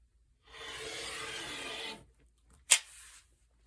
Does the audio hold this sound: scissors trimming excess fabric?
yes